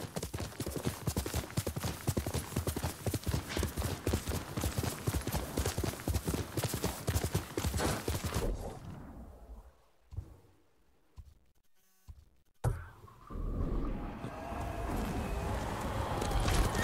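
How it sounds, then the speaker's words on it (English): Horse hooves clip-clop at a steady gallop in the video game Ghost of Tsushima, loud and rhythmic, dropping into near silence midway before the pounding hoofbeats resume. "Good horse, Kage."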